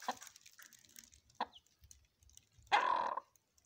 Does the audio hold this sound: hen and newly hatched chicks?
yes